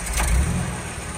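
A Jeep on the Mineral Bottom trail near Moab pulls away slowly in first gear, with a low, rumbling engine that swells briefly and then holds steady, close and fairly loud with no talk.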